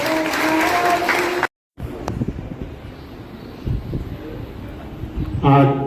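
An audience at a teachers' training certificate event breaks into a few seconds of loud, dense clapping. Voices speak before and after the applause.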